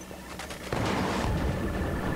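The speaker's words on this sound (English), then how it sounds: "Taste grenade!" In Killzone 3, a grenade blast erupts with a sudden heavy boom partway through and rolls into sustained rumbling gunfire, preceded by a few sharp shots.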